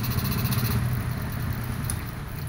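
A 1975 Honda C70 motorcycle engine with a double starter runs steadily at idle, a close, even low putter with no change in pace and no voices.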